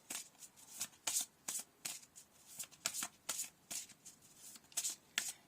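A deck of oracle cards is shuffled by hand, producing repeated quick riffling bursts in an irregular rhythm, close and faint, with no talking.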